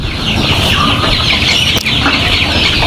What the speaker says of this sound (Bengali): লেয়ার মুরগির বাচ্চাগুলা ভালো আছে।